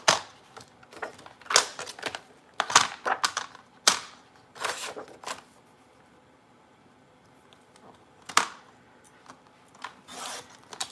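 Paper is sliced to size on a trimmer in a series of sharp, close scraping strokes, with irregular bursts separated by quiet pauses.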